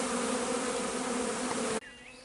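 Honey bees buzz around an opened beehive in a thick, steady drone that holds loud and unbroken, then drops abruptly to a thinner, quieter hum near the end.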